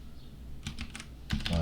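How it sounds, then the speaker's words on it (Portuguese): Brief bursts of close keystrokes on a computer keyboard, a short run of clicks followed by a second cluster, with a voice speaking faintly near the end. "vou clicar aqui e vou digitar o nome planta baixa"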